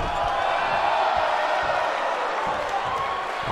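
A wrestling event crowd roars and cheers in a continuous loud wash of voices, with faint thuds under it and no clear speech.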